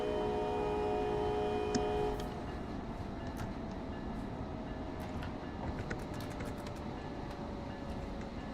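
A train in a train simulator video game rumbles along steadily with a low, continuous roar and faint rail clatter, a sustained tone fading out early on.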